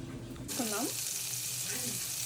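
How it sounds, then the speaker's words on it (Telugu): Whole spices, green cardamom pods, cloves and a small piece of nutmeg, hit melted butter in a pan with a sudden steady sizzle that carries on evenly to the end. "ఇప్పుడు ఫస్ట్ బటర్ వేసుకొని ఇవి వేయించుకుందాము"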